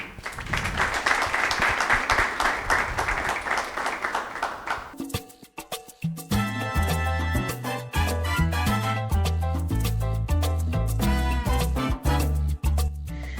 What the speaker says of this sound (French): Si on peut l'applaudir, s'il vous plaît.